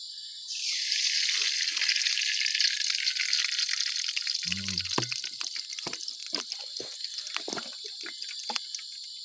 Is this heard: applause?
no